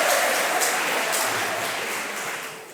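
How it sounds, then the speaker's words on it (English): Crowd applause at a regional debate award ceremony as a medal is handed over, a dense hiss of clapping that holds steady and then fades toward the end, with no talking. "So a round of applause to him as he gets the medal."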